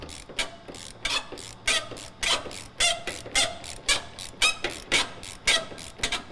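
A ratchet wrench with a 15 mm socket loosens the fuel tank strap bolts under a 2001-10 GM Duramax 6.6L pickup, giving a steady series of about a dozen crisp ratcheting clicks in short bursts, close and fairly loud, with no talk.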